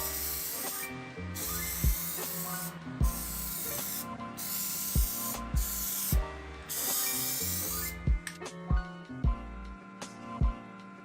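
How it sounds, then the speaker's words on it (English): Long hissing bursts of an aerosol can of white spray paint, several in a row separated by short pauses, with light clicks and rattles in between. "then spray it with white spray paint."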